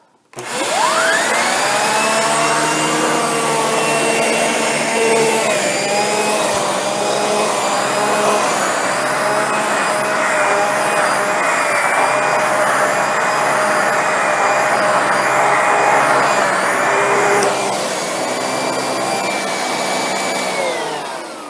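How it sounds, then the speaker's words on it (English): Shark Rotator Lift-Away Speed NV682 vacuum with its pet power brush running over carpet ground with white pet hair, a loud sustained motor whine with a rising tone at startup and steady droning suction, close and alone. "Now we're going to see how the pet power brush performs."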